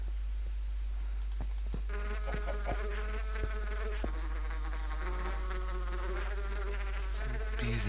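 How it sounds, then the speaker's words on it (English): Bees in the Minecraft video game buzz steadily and continuously for several seconds, a close, even drone layered with small clicks and no voices. "Some bees enjoying themselves."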